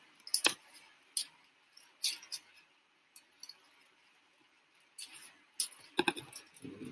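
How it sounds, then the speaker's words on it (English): Scissors cut out parchment paper with a series of crisp, close snips in uneven groups, quiet overall with pauses between cuts. "then you're going to cut out your parchment paper"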